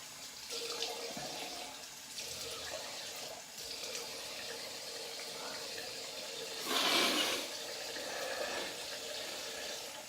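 Water runs from a bathroom sink tap, a steady faint stream that lasts throughout, briefly louder and more splashy near the middle as a face and eye are rinsed.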